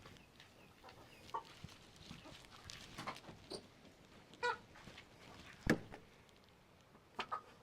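White hens in a farm coop cluck faintly and intermittently against a soft background hiss, with a few sharper knocks and thuds nearby.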